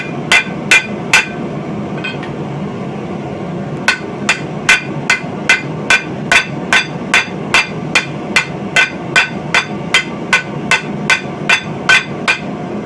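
A blacksmith hammers steel to cup a dish: a few ringing blows, a pause, then a long, steady run of sharp, evenly spaced metallic strikes, loud and close with no talk.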